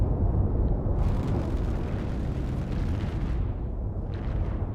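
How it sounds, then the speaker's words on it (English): Warship broadside cannon fire in a naval combat video game, a dense continuous barrage of heavy booms and rumbling blasts that stays loud throughout with no talking. "This is it. This is the big broadside."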